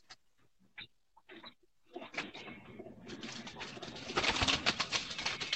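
Teddy pigeons of the 41-number strain cooing in a loft, starting with a few scattered soft calls and building into a dense, continuous chorus of many birds that grows louder toward the end.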